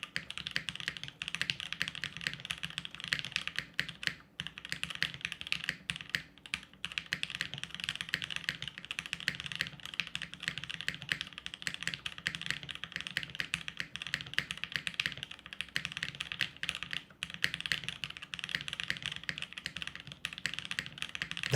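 Steady, fast typing on a plateless mechanical keyboard with GMK keycaps, with dense, even clacks and a slightly hollow, thocky character, close up and with no talking.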